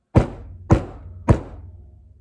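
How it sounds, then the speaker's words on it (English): Three loud, evenly spaced knocks on a front door, each a heavy thud that rings briefly before the next. "I was surprised to hear a loud knock coming from the other side"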